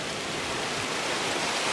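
Quarter- to half-inch hailstones fall in a continuous, dense hiss of broadband noise, steady and fairly quiet throughout, with no distinct individual impacts and no voices.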